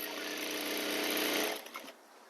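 A sewing machine stitching a folded-over pants hem, its motor whirring steadily for about a second and a half before stopping, heard close with no speech.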